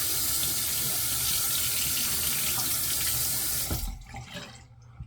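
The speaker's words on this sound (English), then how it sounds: "gonna rinse" A faucet runs in a steady close splash of water while a shaving razor is rinsed, then shuts off near the end, leaving a brief quiet drip and faint room sound.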